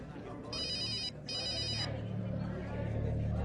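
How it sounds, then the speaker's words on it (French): A telephone bell rings in two clear bursts, close and loud over a low room hum, with a quiet voice underneath. "Le téléphone."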